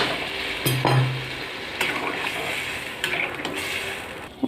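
Katla fish curry gravy bubbling in a pan with potatoes, a steady simmering hiss broken by a few clinks and scrapes of utensil against the pan, close and moderately quiet.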